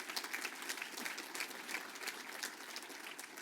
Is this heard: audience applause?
yes